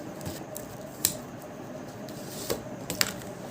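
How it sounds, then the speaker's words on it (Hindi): Tarot cards being drawn from a deck for a reading: a few sharp, close card snaps and light shuffling clicks spaced a second or so apart over a quiet room background, with no talking. "चलो 3 कार्ड निकालते हैं हम फर्स्ट के लिए एंड दूसरे के लिए 3 कार्ड"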